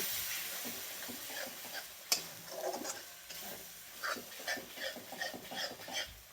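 A sesame and cashew paste roasts in a pan, giving a faint soft sizzle with light scraping stir strokes and one sharp clack, quiet and close.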